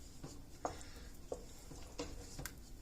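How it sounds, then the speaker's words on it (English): Cheese sauce is stirred and folded in a pan, giving soft, faint scraping and dabbing sounds at roughly even intervals over a low background hiss. "Stir that in. You stir and fold it at the same time."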